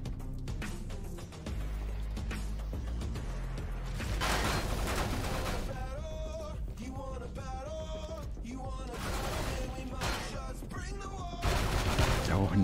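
Rapid bursts of gunfire ring out from a sci-fi survival game, a dense fusillade of shotgun and weapon blasts mixed with mechanical clanks that continue throughout.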